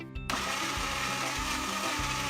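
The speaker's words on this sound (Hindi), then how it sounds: "ब्लेंडर में मैंने चॉप किए हुए एप्पल्स को ऐड कर दिया है विद कोकोनट मिल्क और इसे हमें ब्लेंड करना है" A kitchen blender whirs at full speed, blending chopped apples with coconut milk into a smooth paste, starting abruptly and holding a loud steady motor drone with a rhythmic low churning.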